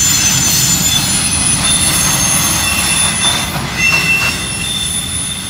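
A freight train crawls slowly around a sharp 90-degree curve, its wheels letting out sustained high metallic squeals and screeches over a steady rolling rumble, close and loud throughout.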